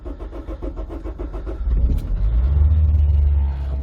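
A wrecked Honda S2000 AP1, left unstarted for six months, cranks with a rhythmic starter whir for about two seconds, then catches and settles into a loud, slightly high idle, heard up close and alone.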